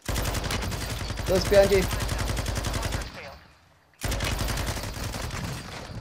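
Rapid automatic gunfire in the Call of Duty Warzone video game rattles in dense bursts, cuts out for a second, then resumes, with players talking over it.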